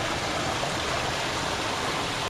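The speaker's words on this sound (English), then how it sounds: "I've turned on the water feature and the bubbler and the booster pump and all the pumps I could possibly turn on to get this water circulating pretty fast" Water from a backyard pool's water feature, bubbler and booster pumps churns steadily, a dense, even rushing wash like a stream that holds without a break until it drops off abruptly at the very end.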